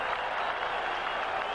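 Stadium crowd of about 47,000 applauding at a 1980 Pittsburgh at Minnesota pro football game, with steady, distant clapping washing across the stands.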